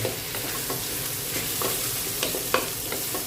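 Cucumber and egg stir-fry in a hot pan, a dense continuous sizzle with scattered scrapes and taps of the spatula as the mixture is tossed, close and steady throughout.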